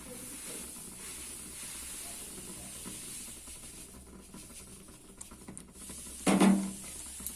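Roasted semolina tipped into boiling jaggery water in a pan, a soft steady hiss and bubbling patter that swells into a brief louder sizzling splash near the end, close and without talking.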